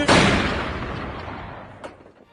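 A single loud pistol gunshot in a film cracks sharply, then its echo decays over about two seconds, with a faint click near the end.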